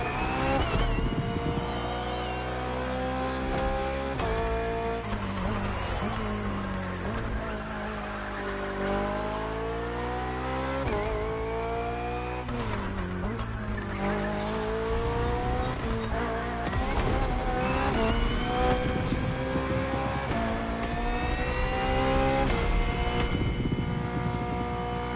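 A hybrid V8 BMW race car engine in The Crew Motorfest in Hawaii, loud and continuous, revving up and dropping through gear changes over a long run, with no talk.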